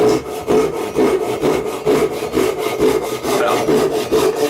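A hand saw cuts through wood in steady, rhythmic rasping strokes, about ten back-and-forth passes, loud and close with no talk.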